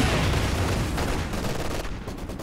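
Machine gun fire in a Company of Heroes 2 battle, a dense, continuous roar of rapid shots and explosions, loud and unbroken throughout.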